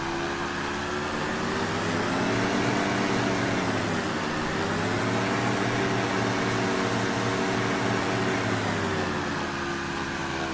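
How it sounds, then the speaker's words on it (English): A Diamond DA-50RG aircraft engine at high power during a run-up, breaking free of its brakes: a loud, steady drone with strong layered harmonics that dip and rise in pitch, continuous throughout with no talk. "breaks free from the brakes at high power."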